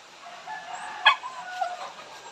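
A rooster crows once, short and fairly close, over a faint outdoor background with a few soft bird-like calls afterward.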